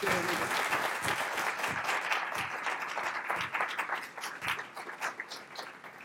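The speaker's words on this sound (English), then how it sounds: "I'd like to give them a round of applause." Audience applause at a SUNY press conference at Downstate Medical Center, a steady wash of clapping that gradually thins and tapers toward the end.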